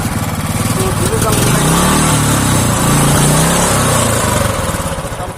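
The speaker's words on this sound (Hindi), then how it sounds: "thumb sound of classic 350" A Royal Enfield Classic 350 motorcycle runs close by with a loud, steady, pulsing single-cylinder thump, swelling briefly as it revs in the middle before settling back.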